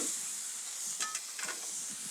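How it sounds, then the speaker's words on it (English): Water steams and sizzles on a hot restaurant griddle under a dome, melting cheese on burgers: a steady, fairly quiet hiss with a few brief crackling flares. "This steam is gonna help melt that cheese better than any salamander putting it under the broiler."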